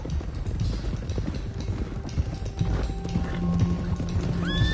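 Horses gallop with steady clip-clopping hooves and a few whinnies in Red Dead Redemption 2 while riding toward Clemens Cove, the hoofbeats continuous and close over game ambience.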